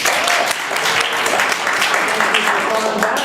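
An audience at a live comedy improv show applauds in a continuous, fairly loud stretch of crowd clapping, with voices mixed in underneath.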